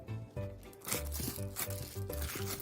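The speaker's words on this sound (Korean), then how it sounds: "고기에 핏물을 종이타올로 빼줍니다." Paper towel is pressed onto raw pork shoulder to blot off blood, making soft, repeated close-up crinkles and rustles in an uneven rhythm over a faint background tone.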